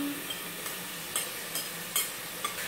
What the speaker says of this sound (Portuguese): Agora eu vou dar uma fritadinha nessa carne aqui com esse alho e cebola